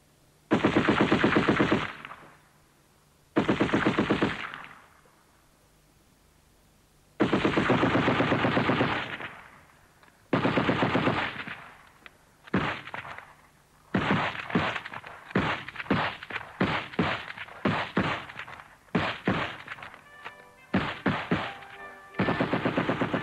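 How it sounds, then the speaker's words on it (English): A Vickers or Maxim machine gun fires in loud, close bursts, first a few long sustained strings separated by silent pauses, then a quicker run of short, choppy bursts, with no voices. "Machine guns like this, the Vickers, or the Maxim, were used on both sides extensively."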